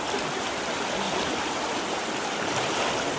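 Continuous broadband rushing of river water as a group wades across a stream near a campsite in Kenaboi, steady and fairly close with no pauses.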